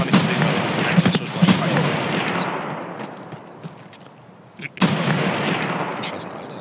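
Gunfire in Escape From Tarkov, with a few heavy booming shots and then a long reverberant rumbling tail before another loud blast, dense and fairly loud.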